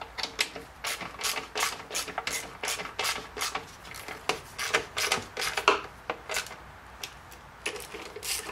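A ratchet wrench clicks steadily while snugging down spark plugs on a Jeep JK Pentastar engine, with quick bursts of crisp, close metallic ratcheting repeated throughout.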